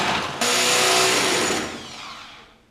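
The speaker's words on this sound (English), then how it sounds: "I'm going to try to drill this thing out." A power drill bores out a part on a 1966 Ford Bronco, starting abruptly into a loud high-pitched whine that holds for about a second, then gradually winds down.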